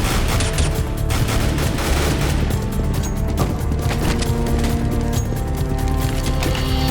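Sustained, loud bursts of automatic gunfire from the video game CS:GO on the map de_dust2, shots overlapping continuously with sharp impacts and crashes throughout.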